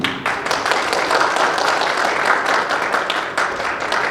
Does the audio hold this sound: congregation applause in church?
yes